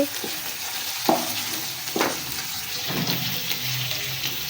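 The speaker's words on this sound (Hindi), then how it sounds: "तकरीबन 10 से 15 मिनट तक इसकी बुनाई करेंगे" Beef sizzles as it is sautéed and stirred in a pot for a yakhni pulao, a steady close frying hiss broken by a few clanks and scrapes of the spoon, with no voices.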